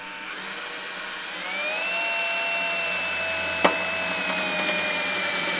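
A power drill whines steadily, its pitch rising and then holding high as it bites into sheet metal on a VW T5 van, with one brief sharp click partway through.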